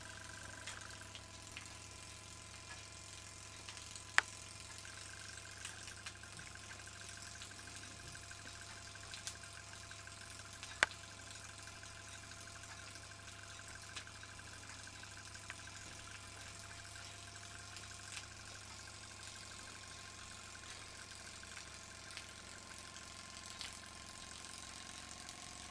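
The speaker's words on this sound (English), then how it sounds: "There's the tiny little oscillating cylinder engine using an O-ring as a trunnion spring." A tiny oscillating-cylinder steam engine with an O-ring trunnion spring, fired by a meths burner, runs steadily with a faint, even hum and light mechanical ticking, plus a few sharp clicks, with no talking.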